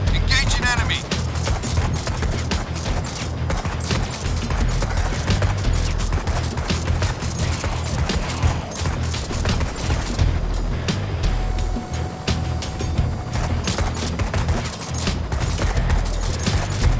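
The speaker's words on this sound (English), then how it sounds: "Your shooters will fire on the zombies so long as you keep holding down the trigger" Helicopter shooters in Dustoff Z keep up steady gunfire on zombies, a constant crackling barrage mixed with rotor-like rumble and game noise, with a voice speaking over it.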